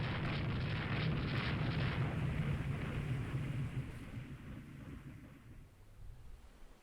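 Heavy naval shell impacts on warships in a steam-era naval battle game rumble loudly, a deep booming roar with a crackling tail that gradually fades over several seconds, with no voices.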